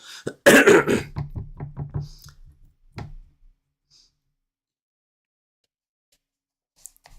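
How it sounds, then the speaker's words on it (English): A burst of harsh coughing up close, a fast series of hacking coughs trailing off, then a short throat clear and near silence. "Sorry about all this coughing."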